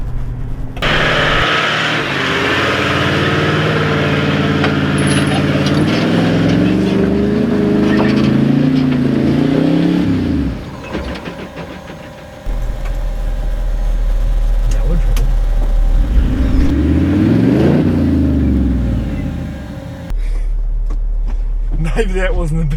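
A Toyota 76 Series 4WD towing a trailer climbs a steep track toward a New Zealand lookout, its engine note droning steadily and rising and falling with load, with a brief dip midway and talk over parts of it.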